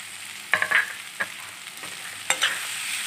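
Boiled jackfruit seeds fry in oil in a pan, a soft sizzle broken by several sharp scraping stirs of a spatula, close and clear with no voices.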